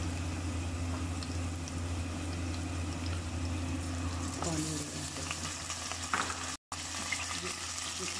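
Minced meat fries in a pan after onions, a continuous low sizzle with a brief scrape or stir partway through, under a steady background hum.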